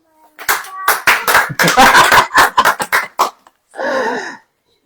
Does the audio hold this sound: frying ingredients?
no